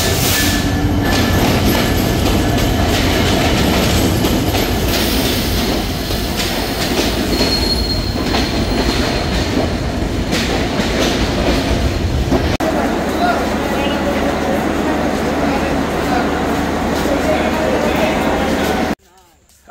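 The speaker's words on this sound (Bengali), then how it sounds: "এই যে ট্রেনও আসতেছে একটা" A train pulls into a busy station platform, its steady rail rumble and wheel clatter loud and close, with people talking over it and the noise dropping abruptly at the end.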